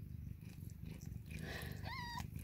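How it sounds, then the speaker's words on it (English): A mother cat with her two newborn kittens: a low steady purr fills the background while high, thin kitten mews rise briefly near the end, close and soft. "I'm seeing two living kittens and Mama being a good mama."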